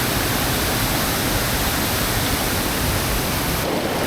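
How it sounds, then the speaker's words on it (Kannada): The Milky Bar waterfall pours forcefully during heavy rain: a dense, continuous roar of falling water, loud and close, with no voices. "ನೀರು ಎಷ್ಟು ಫೋರ್ಸಾಗಿ ಬೀಳ್ತಿದೆ ಅಂತ ಕಾಣಿಸ್ತಿದ್ಯಾ?"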